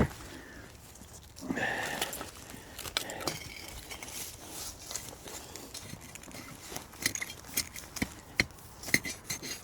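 A metal probe pushed into sand strikes buried glass at an old trash dump while digging for old bottles, giving sharp, scattered clinks and taps, some close together, over soft scraping and light rustle, with a brief louder scuff early on.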